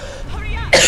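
A single sharp cough bursts out near the end after a short stretch of quiet background sound, close and loud.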